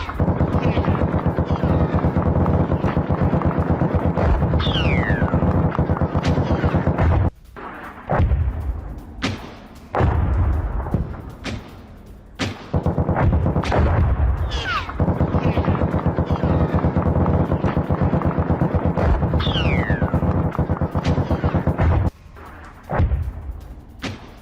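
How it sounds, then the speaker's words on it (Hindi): Bursts of heavy gunfire during a TTP militant attack in the Karak area of Khyber Pakhtunkhwa, Pakistan, news footage; dense repeated shots and booms fill long stretches, broken by short quieter gaps. "करक इलाके में टीटीपी की जबरदस्त फायरिंग, ये देखिए जरा"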